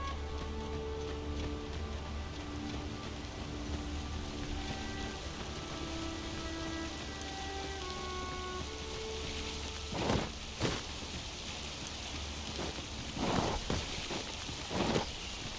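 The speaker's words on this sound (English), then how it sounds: "Water is spilling through the cracks here." Water trickles and spills through cracks in a stone structure in the video game Dragon's Dogma II, a steady wash of dripping and splashing with a few louder splashes toward the end.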